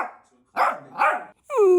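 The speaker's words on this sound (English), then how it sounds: "Montage of barking." A miniature dachshund barks twice in quick succession, then lets out a higher, drawn-out whining yelp; close and loud with short silences between.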